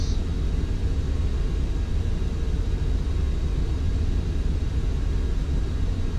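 Airliner cruising in Flight Simulator X, a steady, loud broadband cockpit rumble and hiss that holds unchanged throughout with no voices.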